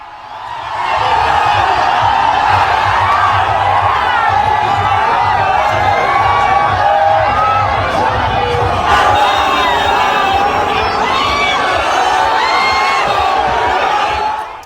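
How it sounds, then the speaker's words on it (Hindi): A large crowd gathers along Yogi Adityanath's election roadshow in West Bengal, a steady dense roar of many voices with overlapping shouts and cheers that holds loud and continuous for the whole stretch. "देखिए जरा दूसरी तरफ भीड़"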